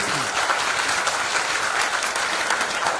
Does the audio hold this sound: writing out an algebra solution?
no